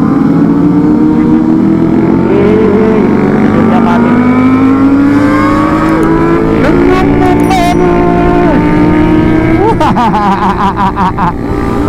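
A Kawasaki ZX25R motorcycle being ridden through corners in Cibadak, Sukabumi, its engine revving hard at full throttle. The pitch climbs steadily with shifts and dips under loud wind noise, and voices talk over it.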